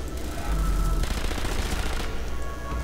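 Rapid bursts of sniper gunfire in the video game Sniper Elite V2 crackle densely over a constant rumble, one stretch of shots giving way to another with no pause and no speech.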